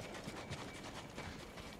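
Horse hooves clip-clop at a steady trot in the Ghost of Tsushima game, quiet and fairly close, with a soft continuous background bed.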